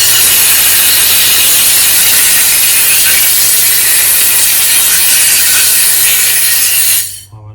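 Compressed air blasts over Yamaha YZF1000 Thunderace carburettor parts as one loud, continuous close-up hiss that lasts about seven seconds and then cuts off abruptly.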